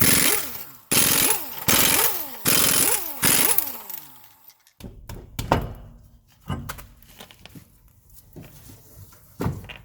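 Impact wrench removing the front passenger wheel of a 2003 Toyota Corolla: five loud, close bursts of rattling hammering, each with a falling whine, then scattered clanks and thuds as the parts come free.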